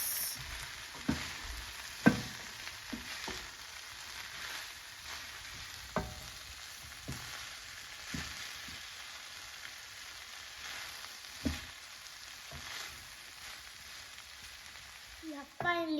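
Pasta being stirred in a pan with Italian sausage and broccoli: a soft, steady sizzle broken by scattered spoon clacks and scrapes against the pan, ending with a brief rattle.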